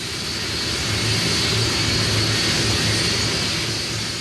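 Steady, loud roar of a wide-bodied jet aircraft engine near Nice Airport, a broad continuous rush that swells slightly in the middle, with no voices.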